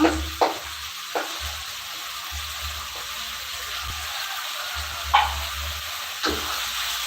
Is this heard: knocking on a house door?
no